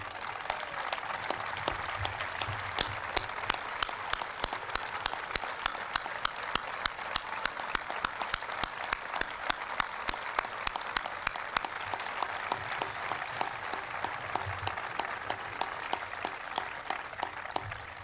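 Sustained applause from a large ceremony crowd greets standing members of Congress at President Clinton's budget bill signing, with many hands clapping steadily and evenly for nearly twenty seconds, heard from a slight distance.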